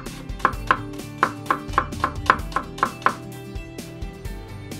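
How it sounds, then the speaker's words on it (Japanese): Knife mincing white scallion on a cutting board while preparing an inada (young yellowtail) dish, about a dozen crisp, fairly loud chops in a steady, slightly uneven rhythm, close by with no talking. "白ネギだとかを 今回はこんな感じでねみじん切りにして"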